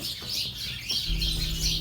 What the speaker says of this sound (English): The birds were certainly having a really loud conversation.